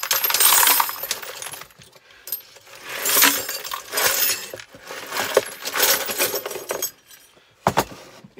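Handfuls of metal washers jingle and clatter as someone rummages through a big tub of them in a workshop, in close, busy bursts of clinking with short pauses between.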